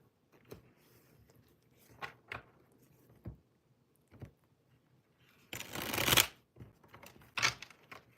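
Tarot cards handled and shuffled close by: sparse soft taps and flicks, then a dense riffling burst and a shorter second flurry, all in quiet surroundings without speech.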